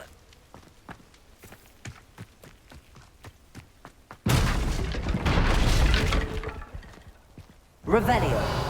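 Incendio fire spell cast in Hogwarts Legacy: a sudden loud whooshing, roaring burst of flame that holds for a few seconds after quiet footsteps, then a second blast rises at the end.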